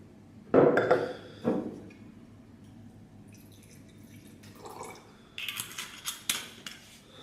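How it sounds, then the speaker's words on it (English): Red wine poured into a wine glass, swirled to coat it and tipped out into a spittoon: a brief splashy pour near the start, then quiet, then light glassy clinks and trickling near the end, with no talk. "you pour a little bit of wine into the glass, coat the glass, and then tip it out into your spittoon"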